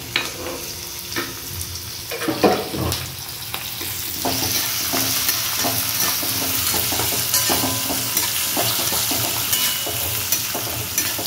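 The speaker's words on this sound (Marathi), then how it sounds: "तर आपण आता याच्यात टाकतोय मिरची." Green chillies sizzle and crackle in hot oil for cabbage bhaji, with a spatula scraping and stirring through a steady, close frying hiss.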